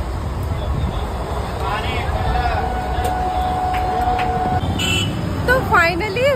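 A passenger train pulls away from a station near Asansol as a steady horn tone rings out for a few seconds over rumbling carriage noise and background chatter.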